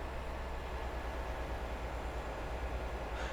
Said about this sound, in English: Plenty of trains.